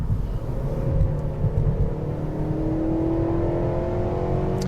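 A 2013 Honda Civic Si sedan engine revs up as VTEC engages, a steady rising engine note heard from inside the car, with a higher whine climbing in pitch over the drone.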